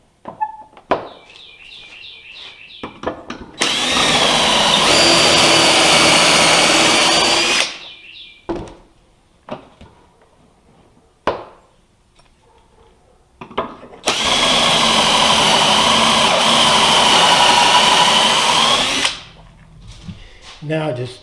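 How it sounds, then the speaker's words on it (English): Loud power drill boring pocket holes in oak boards for a tool chest, two long sustained bursts of several seconds each separated by quieter handling knocks and clatter. "And the next step is put the pocket holes in."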